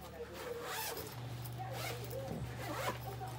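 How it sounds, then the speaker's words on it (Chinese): Zipper on a multi-purpose Japanese travel bag being pulled open to expand it, a long, steady scraping run heard close up under continuous talking and a low background hum. "我们把拉链放开来"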